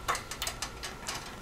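A cable end on a 1951 Ford F-1 truck snaps into its bracket during reassembly, giving a quick series of faint, close mechanical clicks like a ratchet.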